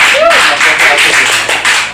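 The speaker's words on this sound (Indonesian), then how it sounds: "Tepuk tangan dulu dong buat." Audience at a music festival claps in a loud close burst of quick, irregular hand slaps lasting a couple of seconds, with a voice briefly heard near the start.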